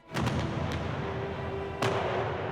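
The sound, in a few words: cannon fire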